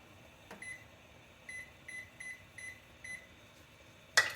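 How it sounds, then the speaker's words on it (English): A kitchen timer beeps in a steady series of short, evenly spaced high tones while chicken soup with Barilla mezzi rigatoni cooks, faint against a low room hum, ending with a brief clatter. "and put the timer on."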